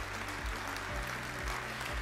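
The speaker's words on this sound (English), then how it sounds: "You can clap because it's a hell of an accomplishment." An audience claps steadily for a motivational speaker, a dense even patter of hands heard through a hum with a low rhythmic thump beneath it.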